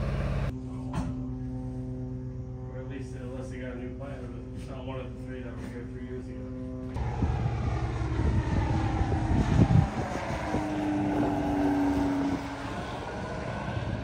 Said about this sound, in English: our plane just landed